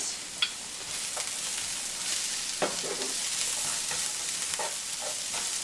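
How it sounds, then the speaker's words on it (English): Colored bell peppers tossed into a pan of frying carrots for vegetable lo mein, with a continuous bright sizzle and a few sharp utensil scrapes and knocks as the mix is stirred. "I'm going to go ahead and add in all of our beautiful colored peppers. And then stir that around."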